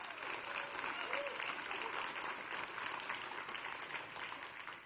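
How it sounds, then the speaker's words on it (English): A conference audience gives steady, dense applause for the earlier speakers, the clapping holding at one level for several seconds and easing slightly toward the end. "let's give them a round of applause"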